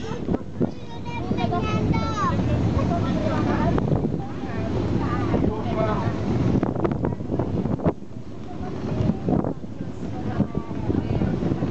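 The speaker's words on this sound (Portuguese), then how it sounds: "Que vento bueno, ¿eh?" Gusty wind buffets the microphone outdoors with a steady, loud roar, while several people talk over it throughout.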